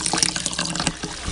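Water pours into a rice cooker's inner container during meal prep, a steady close splashing fill with small bursts and gurgles, no voices.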